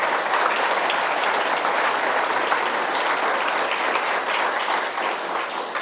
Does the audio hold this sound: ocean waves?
no